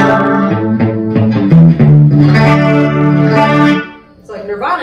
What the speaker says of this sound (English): it's not a bad sounding chorus